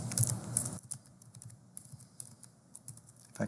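Quiet tapping on a computer keyboard, a quick burst of keystrokes at the start and then sparse, faint clicks.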